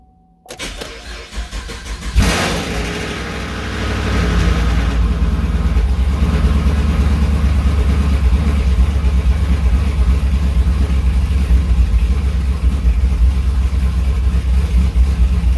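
Chevrolet Camaro engine cranking and catching on its first start, roaring up loud and then settling into a steady, rumbling idle that continues close and unbroken.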